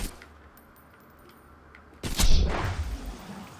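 A video game gunshot rings out as a single loud, sharp blast followed by a decaying rumble after a quiet stretch with faint clicks.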